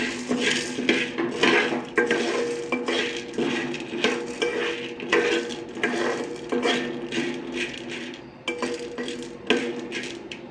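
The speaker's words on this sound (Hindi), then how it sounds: "अभी हमने मक्की के दाने मिक्स कर लिए।" Metal spoon stirring and scraping corn kernels with ghee and salt in a metal pot, a steady run of clinks and scrapes close by for the whole stretch, with no talking.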